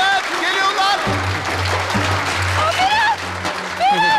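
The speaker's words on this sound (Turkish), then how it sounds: "Gelin ve damada kocaman bir alkış." Wedding guests applaud as the bride and groom arrive at the dance floor, steady clapping under an announcer's voice and music.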